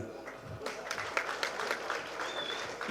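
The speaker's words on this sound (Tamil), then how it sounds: "தயவு செஞ்சு நீங்களே ஒரு தடவை கைத்தட்டிருங்க" Moderate clapping from an audience at a film press event, an uneven patter of hands rising after a brief quieter start and continuing steadily, with some crowd murmur underneath.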